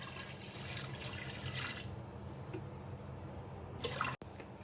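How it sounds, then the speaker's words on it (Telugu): Water poured into a steel-lined electric pot, a steady splashing stream with brighter bursts near the start and end, fairly close and with no talk over it. "ఇందులోకి ఇలా వాటర్ వేసి"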